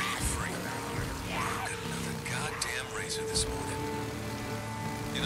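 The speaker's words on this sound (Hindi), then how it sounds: "कितनी तेज बारिश तो कभी आती भी नहीं है यार" Heavy rain in the video game Days Gone pours as a dense, continuous hiss with scattered splashy patter, steady and loud, while a voice talks over it.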